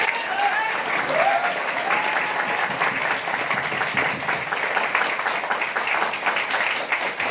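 Audience applause at a training seminar in Ranchi, a dense, steady wash of many hands clapping that holds at full strength from start to finish with no talk over it.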